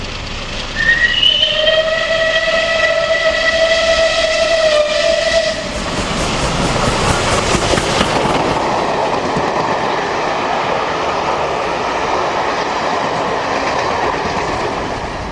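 Preserved British steam locomotive Tangmere passing on a mainline railway near Winchester, with a loud whistle blast first, then a heavy roar of the passing train and rumbling wheels.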